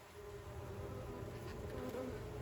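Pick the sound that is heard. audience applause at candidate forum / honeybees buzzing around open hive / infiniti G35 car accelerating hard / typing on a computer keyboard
honeybees buzzing around open hive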